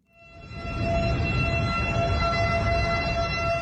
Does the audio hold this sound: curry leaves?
no